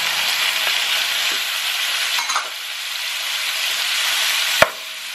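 Frozen tomato hits a hot pan and sizzles loudly and steadily, with stirring scrapes throughout and a sharp clack near the end, no talking over it.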